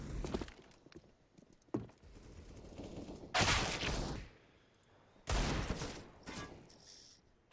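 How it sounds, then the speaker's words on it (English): AK rifle fire in a competitive video game match, heard as scattered shots early on and then two loud, dense bursts of automatic fire with quieter gaps between them. "J-Pow catches him with that AK."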